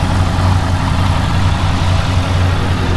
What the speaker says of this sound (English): while the engine's running and getting hot again